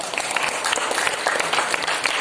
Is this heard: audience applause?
yes